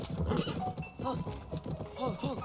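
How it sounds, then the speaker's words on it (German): Golden horse galloping in Zelda: Tears of the Kingdom, with rhythmic hoof clip-clops, a whinny and game background sounds, plus a voice talking over it. "Also ich finde das Pferd ziemlich schnell."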